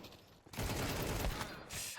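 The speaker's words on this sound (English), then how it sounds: "As you can see, boom, starting to shoot." Dense bursts of rapid gunfire in the video game Counter-Strike on the Nuke map, loud and continuous for most of the stretch after a brief quieter start.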